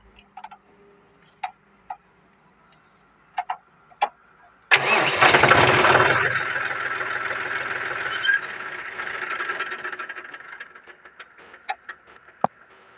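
A second-hand John Deere 5042 tractor with dual clutch cranks and its diesel engine catches, settling into a loud, close, steady idle after a few sharp clicks.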